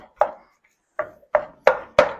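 A spoon breaks up ground meat cooking in a pot for chili, making five sharp taps against the pot, one early and four closer together near the end, with quiet gaps between them.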